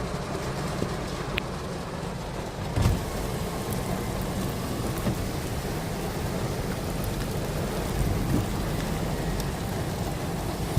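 Steady rain pours down without pause during a big, long line of storms on the way to the Everglades, forming a dense hiss; a faint dull rumble of thunder surfaces briefly near the start.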